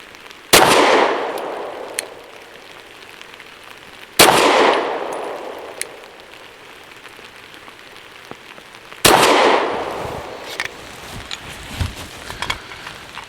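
Derya Arms DY9 pistol with a ported Island barrel firing Hornady Critical Duty 135 grain rounds, three sharp loud shots spaced several seconds apart, each with a ringing decay and light handling noise between them.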